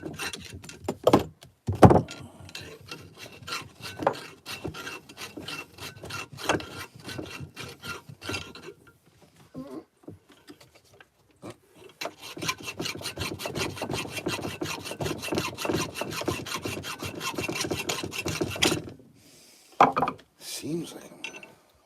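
A hand tool grinds and rasps while boring a hole in solid steel, producing repeated scraping strokes in bursts with short pauses, close and fairly loud, the rhythm speeding into a steady run near the end.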